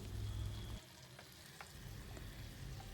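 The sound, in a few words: sweet and spicy sauce simmering in a pan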